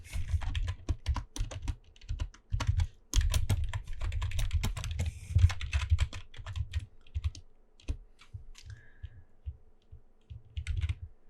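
Typing text on a computer keyboard, a fast, irregular run of close key clicks and thumps with short pauses, continuing for about eleven seconds without talk.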